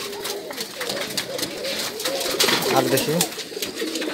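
Gorra pigeons coo in a low, rolling chorus on a large giribaz pigeon farm, heard up close under someone speaking and other farm noise.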